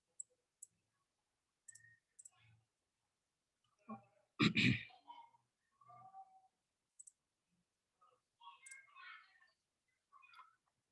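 Sparse, faint computer mouse clicks come one at a time at irregular intervals in a quiet room, with a louder burst of handling noise partway through.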